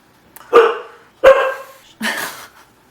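A pet dog barks three times in loud, close, evenly spaced bursts indoors, with quiet between each bark.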